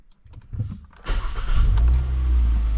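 A 2020 Hyundai Veloster base 2.0 engine, just fitted with new spark plugs and with its check engine light on, cranks briefly, then catches with a sharp burst and settles into a steady, close idle.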